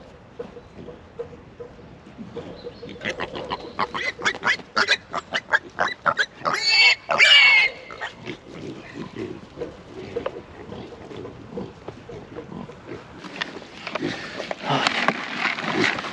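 A pig named Matilda snuffles and grunts in quick rhythmic bursts outdoors, close by and moderately loud, with soft sniffing between the grunts and a brief louder squeal in the middle.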